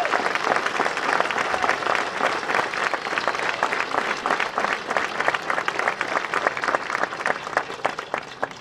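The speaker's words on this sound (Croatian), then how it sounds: "da nagradite ga jednim velikim pljeskom još" A large crowd at a big stage show gives sustained, loud applause for Pavle Pevđonović, a dense wash of clapping that holds steady throughout without any voices over it.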